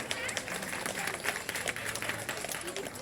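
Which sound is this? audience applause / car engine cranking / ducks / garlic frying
audience applause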